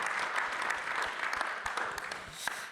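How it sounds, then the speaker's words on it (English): An audience at a conference round-table on AI gives a round of applause: dense, continuous clapping with sharper individual claps popping out, moderately loud and steady throughout. "Give them a big round of applause."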